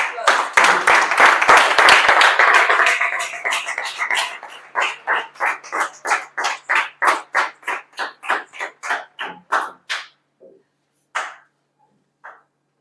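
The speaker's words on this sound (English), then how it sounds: "A round of applause." Audience applause for a Toastmasters speaker: a dense burst of clapping from a crowd that thins out into scattered, rhythmic individual claps before fading, with a few last stray claps.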